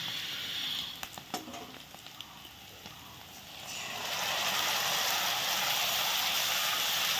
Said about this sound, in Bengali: এখন সব মশলাগুলো দিয়ে দিচ্ছি